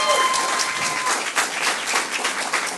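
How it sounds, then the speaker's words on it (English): A round of applause at an international youth-in-care summit: dense clapping from an audience, steady and fairly loud throughout, with a faint tone near the start. "So let's give a round of applause for that."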